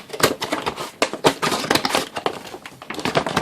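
Scissors cutting open a plastic bag, a loud close run of rapid crinkling snips and rustles that continues without pause and with no talking.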